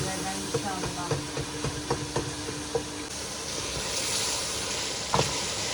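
Masala spices roasting in a pan, a continuous sizzling hiss with soft intermittent scraping taps from stirring, moderately loud and close.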